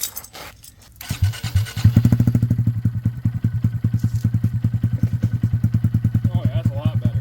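A 2025 Honda Grom motorcycle fitted with an iStunt exhaust starts with a clatter, then idles in a steady, close, loud putter of rapid even pulses that rises slightly in intensity over several seconds.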